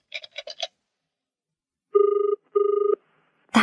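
A landline telephone beeps as several quick buttons are pressed, then rings in two even, electronic trilling bursts after a short silence.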